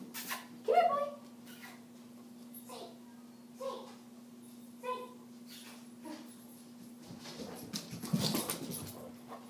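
A pet dog, the clarinet player's own, makes soft whimpering sounds in a few short bursts indoors. A steady background hum runs beneath, and no voice is heard.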